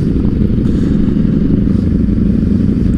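A group of motorcycles including a Yamaha T7 rides on a sportsbike rideout, giving a loud, continuous low engine roar with wind buffeting and no voices.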